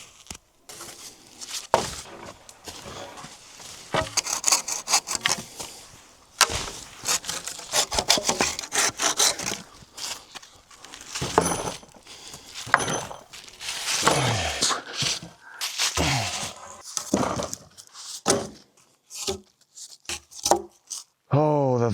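Wood being chopped and sawed by hand for a tree house build in a Finnish forest, with repeated rough strokes, rubbing and scraping close by, loud and uneven over about twenty seconds.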